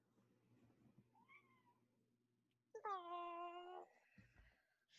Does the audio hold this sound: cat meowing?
yes